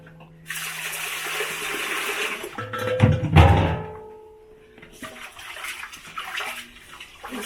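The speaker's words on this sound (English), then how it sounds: "I have to wash the rice." Water splashing and sloshing in a container as 1 kg of rice is washed, with a thunk of grains being stirred and swirled, then softer running water.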